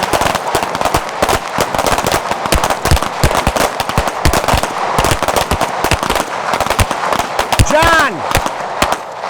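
Rapid pistol shots ring out at an outdoor pistol training session in Nashville, a dense, loud string of sharp cracks close by, with a voice speaking briefly between shots.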